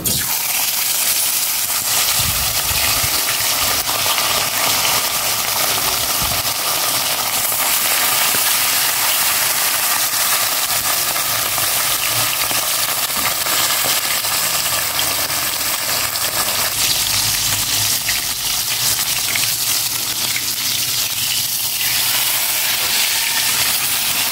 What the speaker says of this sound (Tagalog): I-prito ko na po itong palapikpik. Nagpapainit na ako dito ng mantika.